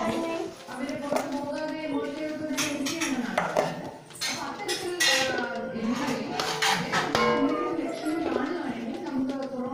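Cooked rice is spooned into a pot while layering chicken biryani in a home kitchen, with clinking utensil and spoon-against-pot scrapes running through, accompanied by a voice speaking over the sounds.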